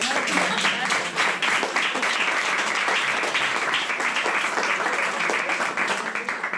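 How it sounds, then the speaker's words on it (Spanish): Audience applause at a book event in a Benimaclet venue, dense continuous clapping from a gathered crowd that holds steady throughout and thins a little toward the close. "ese aplauso"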